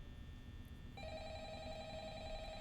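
Electronic telephone ringing from the Five Nights at Freddy's video game, a steady tonal ring that starts partway through and continues at a constant level over a low background hum, with no talk.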